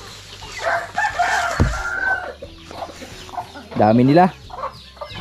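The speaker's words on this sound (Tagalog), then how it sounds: "Unti-unti na namang dumadami yung ating mga manok." Chickens and a brood of twenty-odd chicks cluck and peep around a backyard flock, with a brief crow-like call rising among them; someone speaks briefly over the birds.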